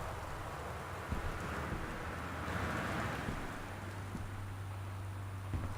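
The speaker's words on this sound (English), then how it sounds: "Oh, that's just loud rain." Loud rain in the video game Gone Home, a continuous broad rushing hiss with a low rumble, steady and fairly loud, with a few soft thumps and no speech.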